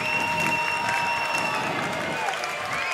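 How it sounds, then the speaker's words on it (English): A basketball crowd at a Mount Vernon versus Solon high school game cheers and claps continuously in a large gym, a busy roar with faint whistling tones, under an announcer's commentary. "Crowd on their feet."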